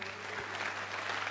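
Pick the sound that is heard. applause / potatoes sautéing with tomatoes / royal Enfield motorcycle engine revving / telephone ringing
applause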